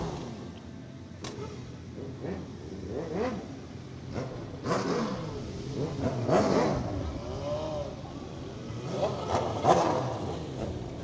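Motorcycle club engines at the 2014 Shallotte Christmas parade rev in repeated rising and falling bursts at moderate distance, layered over steady outdoor crowd ambience with a faint voice now and then.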